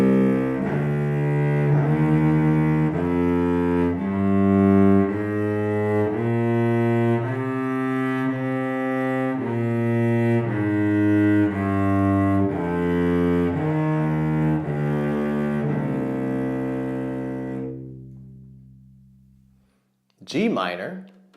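A cello plays a C natural minor scale, bowed note by note in an even rising and falling line, warm and close, fading out at the end before a short noise.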